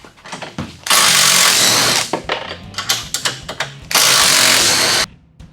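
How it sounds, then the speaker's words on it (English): A power tool backing old bolts out of a RZR UTV roll cage: two sustained, loud bursts of close whirring, separated by rapid ratcheting clicks and clanking of metal parts. "we're going to take all the old bolts out of this cage and move it off to the side"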